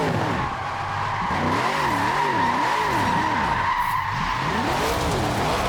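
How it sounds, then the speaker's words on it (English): A car drifting in Forza Horizon 4: engine revving in wavering cycles under a sustained tire screech, loud and continuous, with no talking. "this car is so difficult to drift"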